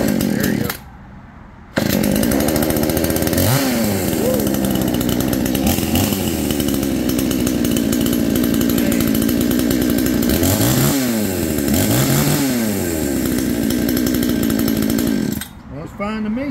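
A petrol chainsaw, just pull-started, runs loud and close for most of the stretch with repeated revving swells, then cuts out near the end; voices are faintly mixed in.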